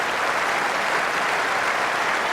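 A large Test cricket crowd at a 2005 Ashes match applauding, a dense, steady roar of clapping that fills the whole moment without pause.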